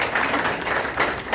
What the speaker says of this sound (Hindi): एक बार जोरदार ताली इनके लिए होनी चाहिए